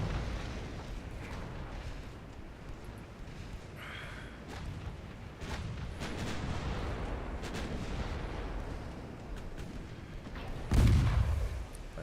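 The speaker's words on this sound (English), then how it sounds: "Secondary guns fire on the destroyer." Warship secondary guns firing on a destroyer in a naval battle game, a steady low rumble of distant gunfire with scattered thuds, ending in one loud, close boom.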